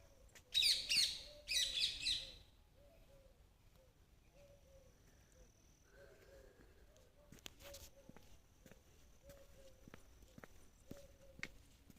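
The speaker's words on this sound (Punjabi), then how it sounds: "ਇੱਥੇ ਭਾਂਤ-ਭਾਂਤ ਤਰ੍ਹਾਂ ਦੇ ਜਿਹੜੇ ਪੰਛੀ ਐ ਤੇ ਕਈ ਤਰ੍ਹਾਂ ਦੀਆਂ ਪ੍ਰਜਾਤੀਆਂ ਉਹਨਾਂ ਦੀਆਂ ਇੱਥੇ ਉਹ ਬਸਦੀਆਂ" Birds of many species living in a vast banyan tree spreading over about four acres call with two loud bursts of bright twittering early on, then quieter, repeated short chirps that recur at intervals in a calm outdoor setting.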